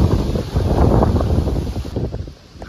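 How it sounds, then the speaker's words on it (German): Strong autumn wind buffets the microphone beside the Rhine river, a loud rushing roar that eases toward the end. "Ist auch aber extrem windig geworden hier."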